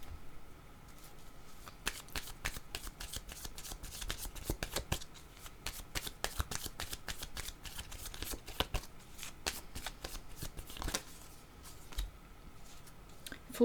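Playing cards are shuffled and drawn in a string of crisp riffling and snapping bursts, close and fairly quiet, with soft clicks between them and no talk.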